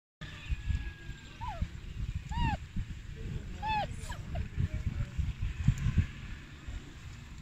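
German Shepherd puppies whimpering, several high thin whines rising and falling over shuffling movement and background voices.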